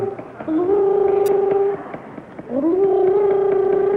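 A human voice imitates a turkey gobble in two drawn-out, warbling vocal calls with a brief pause between them, loud and close, in a studio setting.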